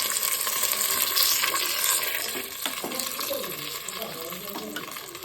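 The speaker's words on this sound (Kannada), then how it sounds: "ಒಗ್ಗರಣೆ ಪಾಡಿ ರೆಡಿ ಆಂಟು" Spice tempering in hot oil sizzles loudly and steadily, crackling at first, then easing as a spoon stirs and clinks a few times.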